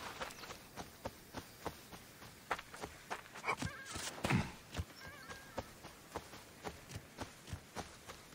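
Hooves clip-clop in a steady walking rhythm from a horse in the video game Assassin's Creed Origins, with a brief whinny in the middle, moderately close and alone.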